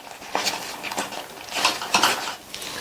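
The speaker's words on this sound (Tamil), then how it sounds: "இடையில இந்த மாதிரி கிண்டி கிண்டி கொடுங்க." A thick sweet of idli batter and roasted gram is stirred in a pan, the spoon scraping and clinking against the metal in uneven strokes, close and fairly loud.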